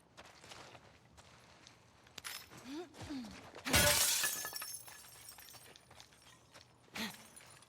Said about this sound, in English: Oops, I broke some glass.